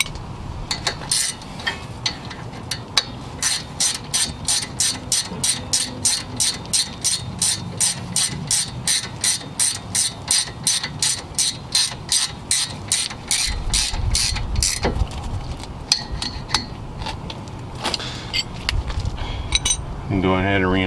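Ratchet wrench clicking steadily as bolts are snugged down during a front brake job on a 2005-2010 Honda Odyssey, a long run of rapid, close-up metallic clicks with brief pauses and a few clinks of tools.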